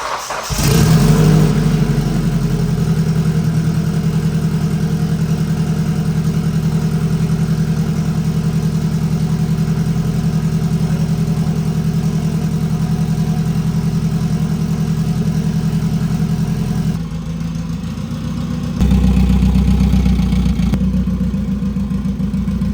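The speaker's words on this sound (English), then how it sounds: "How about we get this engine in the car and get it running like this." A rebuilt Mitsubishi Evo engine of over 700 wheel horsepower idles steadily with a low droning hum, its pitch shifting briefly near the end as it revs up again.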